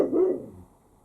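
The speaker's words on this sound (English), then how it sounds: "it's one of the neighbour's dogs saying hello" A neighbour's dog gives a single short, mid-pitched bark or woof, fairly close and alone, fading quickly into quiet.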